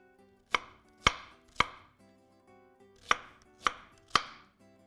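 Six sharp knife strikes on a cutting board coarsely chopping onions, in two groups of three with a short pause between, crisp and close with no talking.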